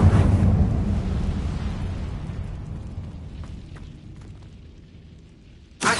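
The Incendio fire spell cast in Hogwarts Legacy: a loud whooshing burst of flame that rumbles and slowly fades over several seconds, ending with a brief sharp flare, with no talk over it.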